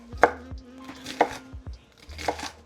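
A knife chopping a Vidalia onion on a board, with three or four distinct, crisp cuts spaced about a second apart, close and clear with no talk.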